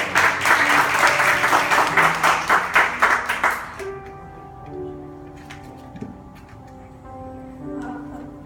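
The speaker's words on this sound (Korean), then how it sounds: "우리 박수로 우리 환영할게요." A church middle-school group applauds to welcome a student, with dense, loud clapping for a few seconds that stops abruptly, leaving quiet room tone with faint tonal sounds and light movement.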